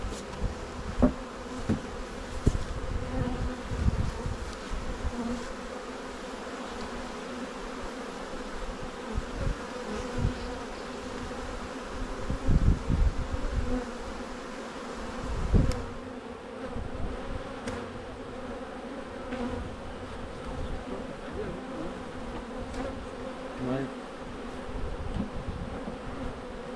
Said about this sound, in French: ça a l'air d'être les ruches, les abeilles de la ruche